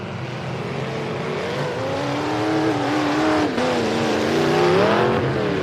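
Full-size race trucks roar around a dirt track in a loud, continuous wash of engine noise, with rising and falling pitch as the trucks accelerate and pass close by.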